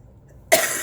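A single sharp cough bursts in after a quiet stretch, then rings on briefly as a rough, breathy trail.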